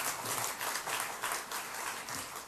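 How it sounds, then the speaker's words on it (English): A conference audience applauds in a continuous, fairly faint burst of clapping that lasts a couple of seconds with a few swells. "give him a round of applause"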